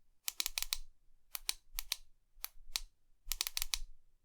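A ThruNite BSS V5 18650 tactical flashlight's tail switch clicked for strobe, small crisp clicks in quick clusters of two to four, close and quiet against near silence.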